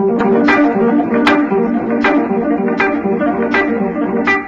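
Electric guitar playing a rapid arpeggio with pull-offs: clear, close, repeating note patterns with evenly spaced pick attacks, played alone at a steady brisk pace.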